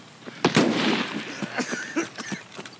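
Sniper rifle fire in Escape From Tarkov, a sharp loud shot followed by a rumbling tail and smaller distant cracks, with a few brief sounds scattered over roughly three seconds.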